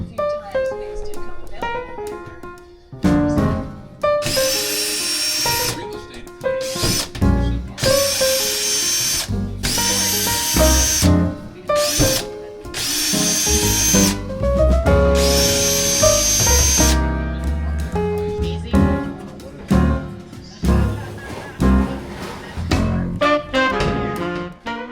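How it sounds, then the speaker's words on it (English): A power drill whirs in several loud, separate bursts as it backs screws out of an RV fireplace, with short pauses and someone speaking between the runs. "take all these screws out."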